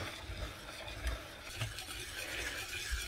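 A spoon stirs thick cheese fondue thickened with cornflour in a pot, making soft, close scraping and sloshing sounds in an uneven rhythm, with no talking.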